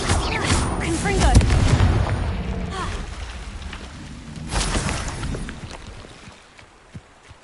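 Confringo blasting spell explosions in Hogwarts Legacy, two loud booming blasts close together followed by another about three seconds later, with scattered crackles and spell effects under some voice activity.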